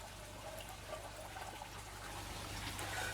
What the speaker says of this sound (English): And now we're adding some beautiful, freshly warmed up rainwater.